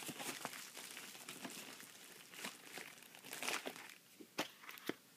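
Paper crinkles and rustles as a craft package is unwrapped, a steady close crackle with sharper crunches near the end, no talking.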